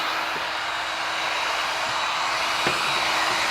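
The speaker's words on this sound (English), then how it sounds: "So just get the heat gun, just get some air underneath it, okay?" A heat gun blows hot air onto window tint film during professional tint work, producing a steady, close, unbroken rushing whoosh that holds level throughout with no talking.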